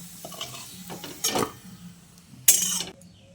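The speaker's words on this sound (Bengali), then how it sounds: "এবার এই আলুটাকে তুলে নিচ্ছি একটা পাত্রের মধ্যে" Fried potatoes being lifted from an oil-filled wok into a bowl: a metal spatula scrapes and clatters against the pan in two short bursts, close and moderately loud, with quiet gaps between.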